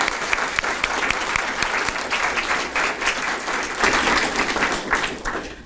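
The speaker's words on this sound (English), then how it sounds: "Let's give them a round of applause." Dense, loud applause from an audience at a literacy fundraising event, many hands clapping together in a continuous wash for several seconds, then tapering off at the end with no speech over it.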